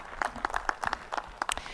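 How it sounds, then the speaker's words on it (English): Audience applause at a live-streamed ministry event, rendered as a quiet scatter of individual claps in uneven bursts, some distance off, with no voices over it. "Please let's give them another hand of applause."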